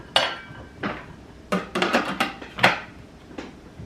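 Lid of a Thermomix closing with raw turkey inside: a few sharp plastic clacks and knocks spread over a few seconds, near and moderately loud, with no talking.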